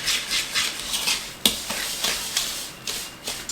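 A whisk mixes oil and sugar in a bowl as a run of soft scraping, swishing strokes with a few sharper clinks against the bowl, close and moderately loud, with no talking.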